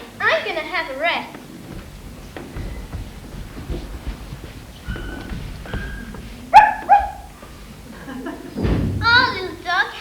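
A small dog barks and yips in short bursts near by on a quiet street, with a few thumps and people talking around it.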